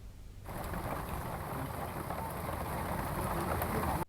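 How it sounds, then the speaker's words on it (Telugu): Steady, dense rain pours down after a brief quiet start, a continuous loud hiss of water on surfaces with no voices. "తెలుగు రాష్ట్రాల్లో విస్తారంగా వర్షాలు కురుస్తున్నాయి"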